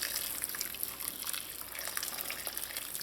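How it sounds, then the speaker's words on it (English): Hot water poured into a pot of goat meat for Trinidadian curry goat, a soft steady splashing and trickling pour heard close but faint, with no talk. "you're going to add enough hot water to cover the goat to help it cook"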